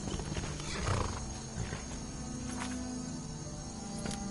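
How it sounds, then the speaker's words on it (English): Horse in the video game Skyrim, close hoof clip-clops and snorting against a steady game ambience with insect-like chirps, moderately quiet and alone. "Oh, so their horse did come back."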